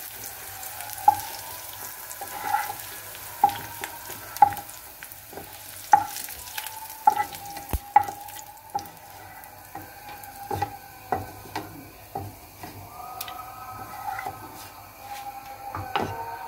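Onion and garlic lightly frying in a pan for a vegetable bharta, a soft crackle with stirring and utensil clicks, periodic sharp scrapes and taps over a low steady background, fairly quiet and close, no talking.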